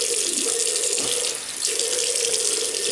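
A tap runs into a sink while wetting up for a shave with a DE razor, a steady loud rushing stream close by with a brief dip in flow midway, no voices.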